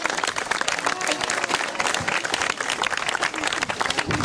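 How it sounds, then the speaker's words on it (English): Audience applause for a WWII veteran married 76 or 77 years, steady dense clapping from a crowd sustained throughout at even loudness. "Let's give him a round of applause as well"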